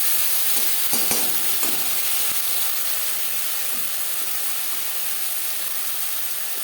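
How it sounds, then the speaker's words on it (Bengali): Ginger paste and green chili paste fry with tomatoes in a pan as a spoon stirs them, giving a steady close sizzle broken by scraping stirs throughout, with no speech. "আদা ও লঙ্কার কাঁচা গন্ধ যাওয়া পর্যন্ত নাড়াচাড়া করে দেবো।"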